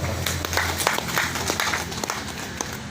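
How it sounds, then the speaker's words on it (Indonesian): An audience at a village culinary launch event claps together in sustained, dense applause for nearly three seconds. The clapping is steady and fairly loud throughout. "mari kita berikan aplaus dulu untuk Pak"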